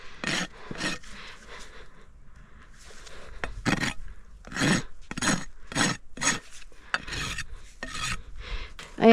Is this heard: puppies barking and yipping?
no